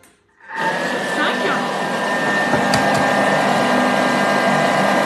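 A kitchen stand mixer starts up and runs steadily at speed 5 while making choux pastry, a loud, constant motor whine and whir that holds without pause after a brief quiet start.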